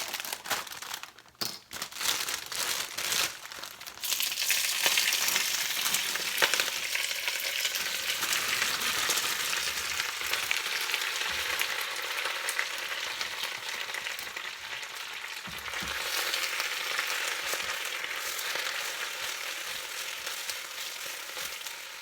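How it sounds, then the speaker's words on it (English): Spinach hits a pot of browned garlic with a loud, steady sizzle and crackle, while leaves crinkle and rustle under continuous stirring close by. "we're going to actually add the spinach and stir that in"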